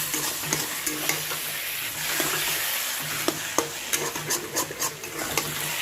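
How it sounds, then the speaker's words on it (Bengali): Taro leaves with hilsa fish head being stirred in a frying pan, a spatula scraping and clacking against the metal in irregular strokes over a steady sizzle, close and alone. "লেবুটা দেওয়ার পর ভালো করে আমরা নেড়ে নেব।"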